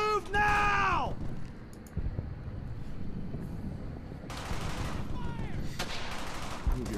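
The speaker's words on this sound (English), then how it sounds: "Sam, suppressing fire!" Bursts of machine gun fire crackle through a World War II battle in the video game Brothers in Arms: Hell's Highway, layered over constant combat din with shouted squad orders and a rising whistle tone at the start.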